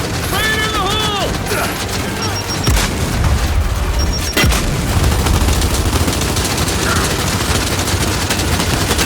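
Gunfire and a heavy blast rumble through a Gears 5 Hivebusters battle, dense low booms and rapid shots filling the whole stretch, with brief voice lines near the start and a sharp hit around the middle.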